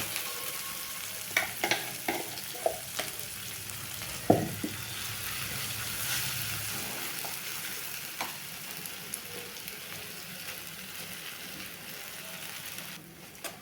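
Ground masala with tomato, onion and curry leaves sautés in a pan for a jackfruit gravy, a low steady sizzle broken by occasional spoon taps and scrapes, with one sharper clank early on.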